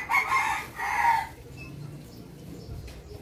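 A Rhode Island Red rooster crows twice in quick succession, fairly close, followed by quiet low background rumble.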